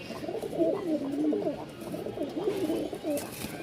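Hand-held pigeons offered for sale in Mirpur-1, Dhaka, coo in low, warbling, continuous calls, close and moderately loud, with faint background noise.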